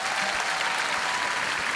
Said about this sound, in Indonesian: Berikan tepuk tangan untuk mereka semuanya.